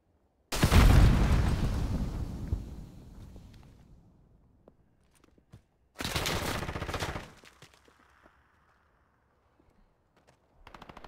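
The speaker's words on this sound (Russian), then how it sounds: "Кидаю гранату." A grenade detonates in Call of Duty Modern Warfare with a loud, close boom that rumbles away, followed a few seconds later by a burst of rapid gunfire and then a brief second volley after a quiet pause.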